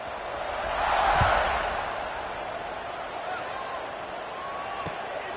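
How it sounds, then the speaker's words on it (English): A college football stadium crowd roars before a kickoff, a broad sustained wash of cheering that swells early and then holds steady, with an announcer talking over it. "Set to kick it off, and this crowd now ready to get behind them."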